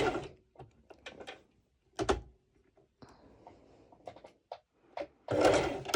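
Sewing machine stitching bikini fabric over a hump jumper, running in slow short bursts separated by pauses, then a louder stretch of stitching at the end, close and moderately loud with no talking.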